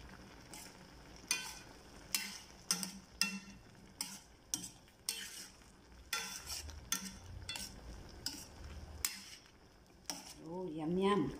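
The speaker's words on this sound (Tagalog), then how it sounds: "Kumukulo na siya." Metal utensil clinks and scrapes against a pot of sinigang na hipon (Filipino shrimp sour soup) in irregular taps, over a steady low simmering bubble, with a brief voice near the end.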